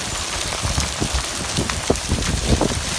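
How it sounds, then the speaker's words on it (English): Large hailstones fall during a Mojave Desert summer storm, drumming on a carpet in a dense, steady patter of close, irregular hits with no talk. "Yes, the hailstones, look. You see them now. Coming down on the carpet."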